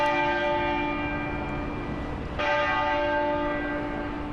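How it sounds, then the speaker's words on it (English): A lone church bell at Westminster Abbey tolls in mourning, one clear ringing strike swelling midway over the fading hum of a previous stroke, steady and resonant. "a lone bell tolled for each of Philip's 99 years"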